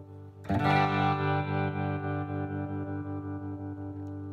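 Electric guitar through a Headrush rig with a tremolo effect and intensity control: a single strummed chord rings out, its volume pulsing in a fast, even throb as it slowly fades, lush and close with no voice.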